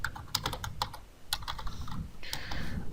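Rapid keystrokes tapped out on a computer keyboard while entering a name, a run of crisp, close clicks in uneven bursts with short pauses between them.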